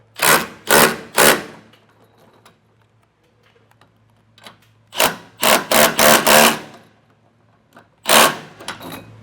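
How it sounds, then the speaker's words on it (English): A ratchet with a 14mm socket tightens spring hardware on an enclosed trailer's ramp door. Crisp, close clicking comes in short repeated bursts, grouped in clusters, with quiet gaps between them. "And I will tighten these down with a 14mm socket."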